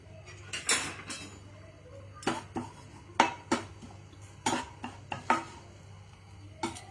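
Spices tempering in hot oil give sparse, sharp pops and clicks at irregular intervals, close and moderately loud over a low steady kitchen hum.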